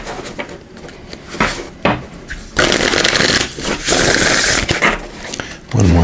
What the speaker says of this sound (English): I'm just going to give this a good shuffle.